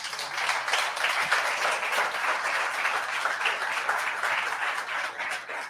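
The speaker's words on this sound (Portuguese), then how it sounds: "É um aplauso a Jesus." A church congregation claps in praise of Jesus during an evangelical service, a steady, dense wash of applause holding at an even level throughout before easing slightly at the end.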